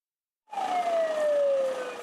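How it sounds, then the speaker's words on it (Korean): Fire engine siren wailing as the truck heads out to a call in Korea, a loud steady tone sliding slowly downward after starting abruptly half a second in. "사이렌을 켠 소방차가 출동합니다."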